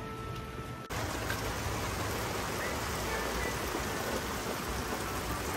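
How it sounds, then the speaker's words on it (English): Steady rain falls on a sunny day, heard from inside a van, with a dense, even hiss, close and continuous after a brief quieter moment at the start. "Raining while it's sunny out there."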